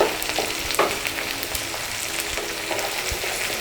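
Cashews, poppy seeds, melon seeds and pepper stirred into a hot pan for a broccoli rezala, giving a steady close sizzle with scraping spoon strokes throughout and no talk.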